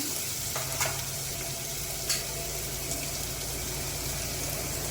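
Onions for veg biryani frying in a pan, producing a steady, dense close-up sizzle with a couple of faint clicks and no talking.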